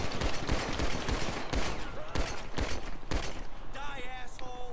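Rapid bursts of video game gunfire from a gun that is running low on bullets, loud and repeated in quick volleys with sharp transients, ending with a few high electronic tones; agitated players talk over the shooting.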